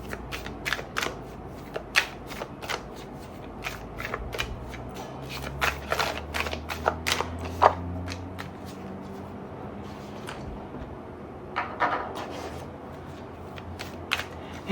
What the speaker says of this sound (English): I shuffle my decks between all of my readings